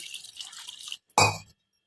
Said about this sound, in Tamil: போட்டு தண்ணி ஊற்றி நல்லா ஊற வச்சுக்கலாங்க